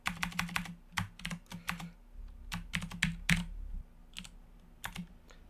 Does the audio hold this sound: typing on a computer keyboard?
yes